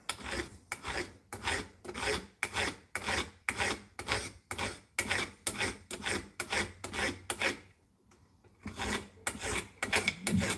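Hand sanding of steel lockpicks with rhythmic back-and-forth rasping strokes, close up and regular, pausing briefly near the end before resuming.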